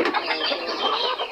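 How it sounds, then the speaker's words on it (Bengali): A black silkie rooster and hen give a short burst of clucking, near and fairly loud, with no one speaking. "এটা হচ্ছে মোরগটা, এবং ওই পাশেরটা হচ্ছে মুরগিটা।"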